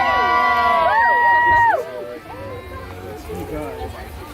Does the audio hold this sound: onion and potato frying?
no